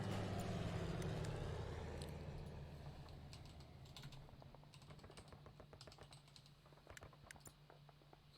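Quick, irregular typing on a computer keyboard, faint and close, a scatter of light key clicks over a low hum that fades slightly early on.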